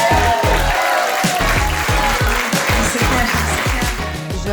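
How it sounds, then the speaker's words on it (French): Loud, continuous applause from an audience at a Demo Day event, cheering the Sista team, with dense clapping filling the room for several seconds. "Vous pouvez applaudir de toutes vos forces pour l'équipe Sista"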